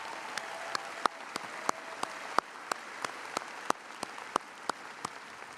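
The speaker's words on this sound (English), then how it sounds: "Let's give them a round of applause as well." An audience claps for a student brass ensemble at a university commencement ceremony, steady moderate applause from a large crowd with a few sharp individual claps standing out, heard from a distance and without voices.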